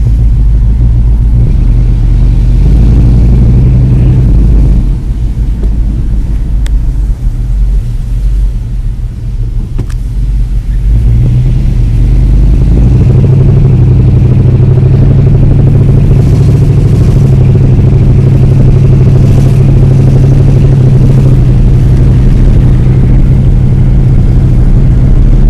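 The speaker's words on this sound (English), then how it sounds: "you're about to hear how it sounds driving" A 1976 Monte Carlo with dual Flowmaster exhausts drives along, a loud deep exhaust rumble that drops briefly then swells as the car accelerates and holds a steady throaty drone.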